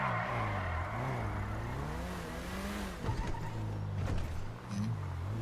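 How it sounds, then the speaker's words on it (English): Hellcat car engine in the GTA role-play video game, revving loudly and steadily up and down with changing pitch over a continuous drone, with tire squeal and skidding noises near the end. "Oh, listen to another Hellcat in there, the PDM."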